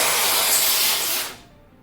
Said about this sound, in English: spray that dust all over my desk.